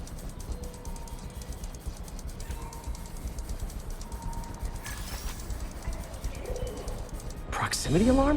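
A pigeon coos in Marvel's Spider-Man Remastered on a New York street, soft repeated calls over a steady city hum, with a voice talking faintly underneath and a brief swell of noise near the end.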